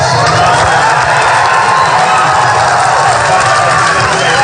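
Indoor crowd at a 2016 Trump campaign rally roars and cheers loudly and continuously, a dense wall of shouting and whooping.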